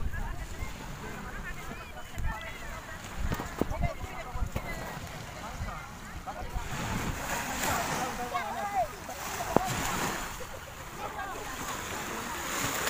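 Sea water splashing and surf wash along a beach at a seaside campsite, a steady broadband rush lasting throughout with occasional louder splashes, mixed with wind noise and people talking nearby.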